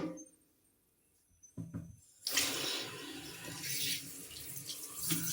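After a near-silent start, running water gushes in steadily, loud and close, as shampooed hair is rinsed under the flow.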